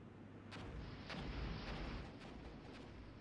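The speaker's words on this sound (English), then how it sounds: "so you can see here we have the rocket artillery I was talking about prior" Rocket artillery firing in the Armored Brigade war game: a dense, steady rumble with several faint thumping launches spread across it, heard from a distance and without voices.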